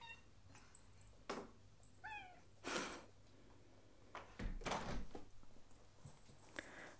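A second cat coming into a quiet room gives one short meow, with soft bumps, rustles and brief scuffs around it, all close and fairly faint.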